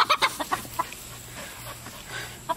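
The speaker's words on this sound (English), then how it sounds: "The chickens are like, Teddy, let us have our watermelon in peace." Chickens cluck in quick, scattered bursts nearby, around a capuchin monkey, with a low steady hum in the background and no talking.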